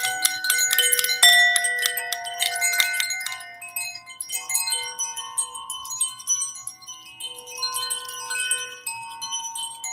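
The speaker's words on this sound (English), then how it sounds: "Just listen to the chimes." Wind chimes ring for a holiday relaxation session, with a bright cluster of metallic tones struck at the start and then sustained, overlapping ringing notes that gradually fade and are renewed, heard alone without talk.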